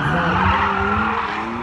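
A modified BMW race car at a Puławy super sprint event roars steadily at close range, its loud engine and tire noise continuous throughout with no talk.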